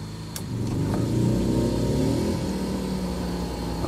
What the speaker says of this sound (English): We'll see if we can hear the little generator kick off.